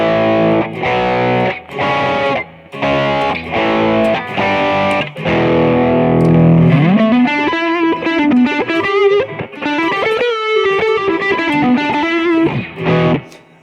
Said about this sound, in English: Here it is, the bluesy lead without delay.